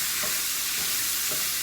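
Carne guisada being stirred in a hot pan, with a steady close sizzle and frying hiss throughout and a few soft scraping strokes of the spoon at regular intervals, no talking.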